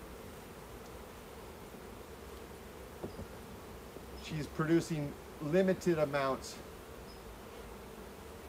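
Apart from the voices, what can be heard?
honey bees buzzing at an open hive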